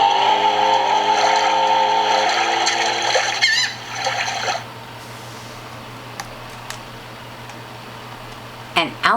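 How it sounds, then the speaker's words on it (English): A jet ski from a children's sound book: a droning, engine-like whine with water noise for about four seconds, then a quieter watery wash and a brief splash near the end. "And the ski jet."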